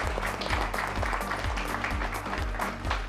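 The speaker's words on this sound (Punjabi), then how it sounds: "ਇੱਕ ਵਾਰ ਜ਼ੋਰਦਾਰ ਤਾੜੀਆਂ ਚਲੋ ਫਰੈਸ਼ਕੋ ਲਈ" A grand-finale audience at a cooking competition claps for a sponsor, steady crowd applause under a thumping music beat.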